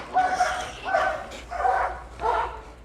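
A military working dog barks in four loud, evenly spaced bursts during a bite demonstration at a 9-11 tower challenge event, with a faint voice in the background.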